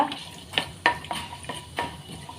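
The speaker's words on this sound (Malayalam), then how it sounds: "അതൊന്ന് ഇളക്കി കൊടുക്കുക" Cumin seeds, cardamom and cloves fry in hot oil in a pan, with a light sizzle under several sharp clinks and scrapes of a spoon stirring them.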